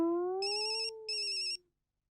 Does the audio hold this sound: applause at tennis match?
no